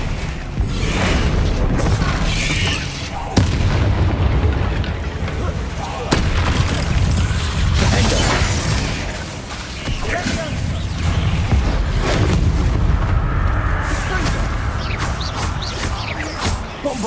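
Booming spell blasts of Bombarda in Hogwarts Legacy go off several times amid a noisy magical duel, heavy thuds and crackling bursts layered over constant combat clatter, with a character's voice shouting during the fight.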